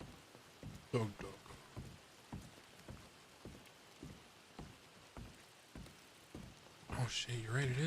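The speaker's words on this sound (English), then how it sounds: "you're right, it is raining." Rain falling in the GTA video game, a steady patter with soft repeated thuds throughout, faint and distant, with voices joining near the end.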